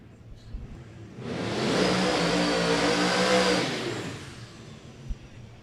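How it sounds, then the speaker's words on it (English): 1967 Chevelle drag car at a dragway, a loud engine rev swelling up over about three seconds and then fading, heard from a distance with no talk over it. "1967 model Chevelle? That is what's coming up left-hand side, one of the louder cars on the property."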